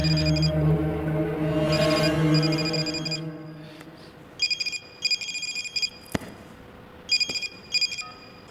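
A telephone rings in a Hindi Bollywood action thriller scene, several short repeated electronic ring bursts after a loud musical passage, with brief sharp sounds between rings and no talk over them.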